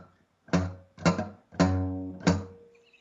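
Four plucked guitar notes played by a beginner, each struck separately with uneven spacing and left ringing briefly, played alone and close by.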